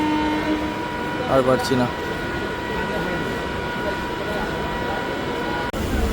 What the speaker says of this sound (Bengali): ট্রেন আমাদের ছাড়ছে এখন শিয়ালদা স্টেশন